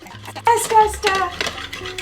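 A small child stirs a sugary mixture in a bowl with a spoon, giving quick scraping and clattering strokes up close while an adult voice talks over it.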